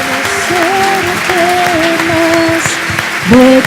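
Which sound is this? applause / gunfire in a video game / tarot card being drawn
applause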